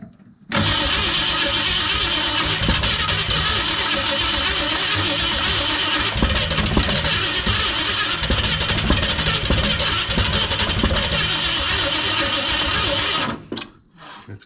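A 1964 Ford Fairlane that sat in a barn for over 25 years cranks continuously on its starter for about thirteen seconds, a steady loud grinding churn that cuts off abruptly near the end.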